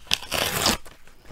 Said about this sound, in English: I'll just tear out this page.